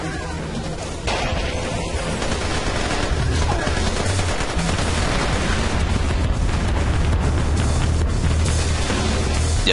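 Sustained bursts of gunfire with crashing blasts from a grenade in the video game Splinter Cell: Conviction, loud and continuous throughout, with dense rattling fire and heavy impacts.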